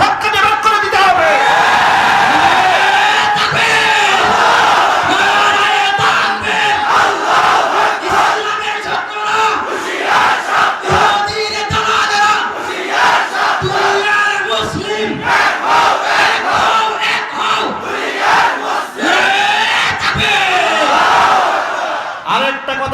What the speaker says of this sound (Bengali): এই যে নারায়ে তাকবীরের স্লোগান দিয়েছে